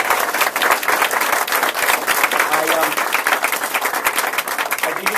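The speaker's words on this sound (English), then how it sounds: "So give yourselves a big round of applause." Campaign kick-off crowd breaking into dense, sustained applause, many hands clapping loudly and steadily throughout, with some voices mixed into the ovation.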